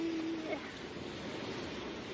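Ocean surf washing on a shore as a steady, rushing wash of waves with wind, close and fairly loud, no distinct breaks, with no one speaking.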